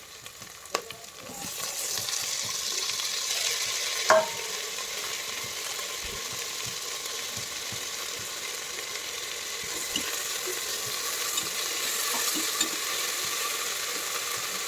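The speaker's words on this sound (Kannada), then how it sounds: "ಟೊಮೆಟೊನಾ ಸ್ವಲ್ಪ ಫ್ರೈ ಮಾಡ್ಕೊಳ್ಳಿ" Tomato frying in a pan for a Karnataka-style green gram usli, a continuous soft sizzle with faint stirring taps and a sharper knock early on, heard alone without speech.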